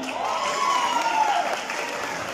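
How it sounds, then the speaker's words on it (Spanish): Audience applause for a table of contestants at a judged competition event, a steady wash of clapping beneath a loud rising-and-falling whoop from the crowd. "El aplauso para tu mesa."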